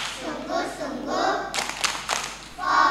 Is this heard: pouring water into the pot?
no